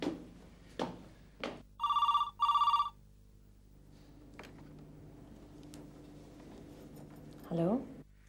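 Telephone ringing indoors, two short electronic double rings in quick succession, with a few thumps and faint background hum around them.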